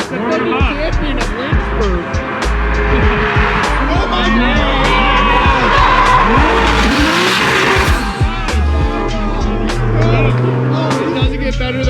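Drift car takes a 130 mph entry on its grippiest tires, the engine screaming and rising and falling as the tires squeal loudly through the slide, close and intense, with voices over it.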